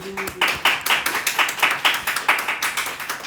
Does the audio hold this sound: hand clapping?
yes